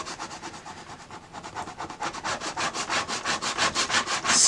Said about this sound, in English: let's go ahead and burnish this down.